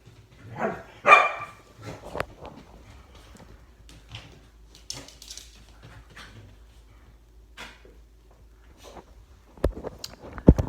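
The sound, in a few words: dogs barking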